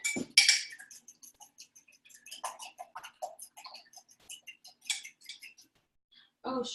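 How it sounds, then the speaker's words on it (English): Three eggs being whisked quickly in a bowl make a run of light, rapid clinks and taps. The bursts are close and uneven, with short pauses between them and no talking. "we'll just give it a quick whisk"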